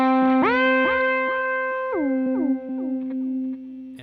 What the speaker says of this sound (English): or you can set the hold modifier just like I have, and I made a whammy effect